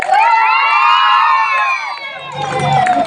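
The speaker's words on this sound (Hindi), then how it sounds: "ताली बजा दो हल्ला करके जोर से" A street crowd at a cobra snake show cheers and shouts loudly for about three seconds, high whooping voices over a dense hubbub, with a lower rumbling murmur swelling near the end.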